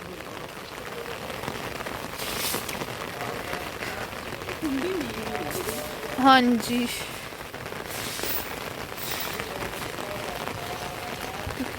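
Rain pattering steadily on surfaces in a village setting in Punjab, a soft continuous hiss through the whole stretch, with a brief voice answering and a short louder burst of other sound near the middle.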